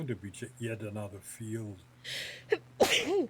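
A sudden sneeze bursts out near the end, sharp and close, following a stretch of casual talk during a flight-simulator session.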